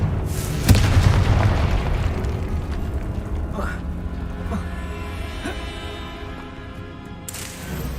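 Confringo fire spell explosion in a Hogwarts wizarding video game, a loud booming blast that decays into a long rumbling, crackling tail, with a second softer burst near the end.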